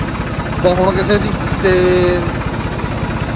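A Ford tractor engine idles at a steady low rumble throughout, close by and fairly loud, while someone talks over it.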